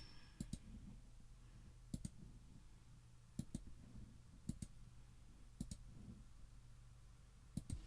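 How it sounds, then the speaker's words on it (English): Computer mouse clicking during a WordPress installation, with crisp double clicks repeating every second or so over a steady low background hum and no speech. "And then you click finish installation."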